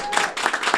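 Podcast hosts clap to close the show, a short burst of close, brisk hand claps lasting under a second.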